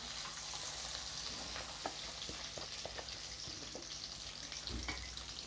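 Small peeled shallots sautéing in oil in a pan with a sprig of curry leaves, cooked village style for mutton soup: a steady faint sizzle with scattered soft stirring clicks throughout, no voices.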